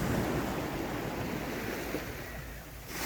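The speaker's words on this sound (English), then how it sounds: "We're down at the beach. It's called Shell Beach." Waves wash onto Shell Beach on St. Barth in the Caribbean, a dense, continuous hiss and rush of surf with some wind, easing slightly toward the end, with no voices.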